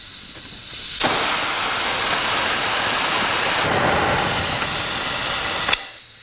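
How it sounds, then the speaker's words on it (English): Fluid extractor drawing brake fluid out of a Nissan Sentra master cylinder, a loud steady hiss of suction that starts abruptly, runs for several seconds and cuts off sharply. "I'll be using a fluid extractor"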